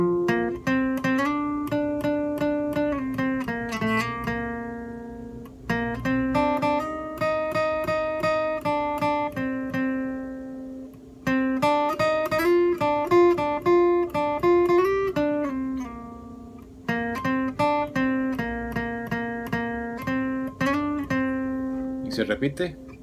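Guitar lead played slowly from the beginning on a single guitar, steady plucked notes in four phrases separated by brief pauses, close and unaccompanied.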